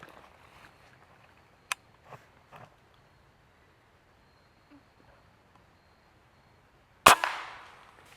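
A single loud gunshot rings out in the woods while squirrel hunting, with a sharp crack and a short echoing tail. A few faint twig snaps and rustles come before it in the quiet.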